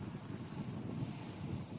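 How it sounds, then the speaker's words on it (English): Wind rushes steadily across the microphone on a windy mountaintop wind-turbine test site, a constant low buffeting roar with no voices. "it's very windy up here"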